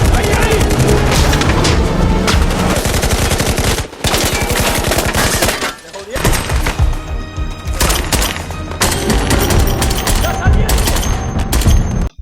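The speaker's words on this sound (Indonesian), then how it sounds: "tembak-tembakan yang intens" Intense gunfire from an action film scene, loud rapid automatic bursts and crackling shots layered with booms, nearly continuous except for two short pauses, with music and effects mixed beneath.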